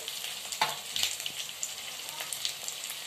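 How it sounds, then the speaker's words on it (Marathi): Onion, curry leaves and green chilies frying in a pan, a bright crackling sizzle with sharp spits and pops throughout, close and steady with no talking. "आता त्यात थोडा कढीपत्ता टाकते आणि इथं मी बारीक 3-4 मिरच्या कापून घेतल्या त्या टाकते"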